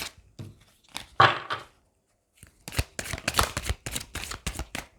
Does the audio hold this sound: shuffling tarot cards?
yes